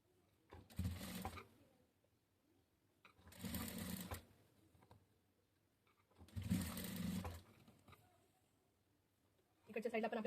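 Sewing machine stitching a katori blouse, running in three separate bursts of about a second each with pauses between them, and a fourth burst starting at the end, close and fairly loud.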